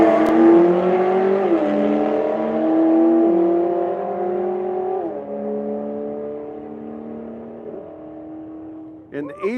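A Porsche and a Corvette E-Ray launch in a drag race, a loud engine roar climbing through gear changes and slowly fading down the strip, with an announcer talking over the run.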